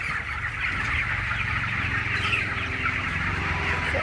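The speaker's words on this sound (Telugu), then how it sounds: "వెరైటీగా ఉన్నాయి కోళ్ళు ఇక్కడ." Chickens of mixed varieties clucking at a village chicken farm, a dense, constant chorus of overlapping clucks and cackles close by, with no voices.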